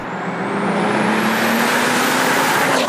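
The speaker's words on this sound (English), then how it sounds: "It's a hard engine note to replicate." A tuned 462 bhp turbocharged Golf R32 V6 engine revs hard and steadily climbs in pitch, with a loud, continuous roar and a faint turbo whistle above it.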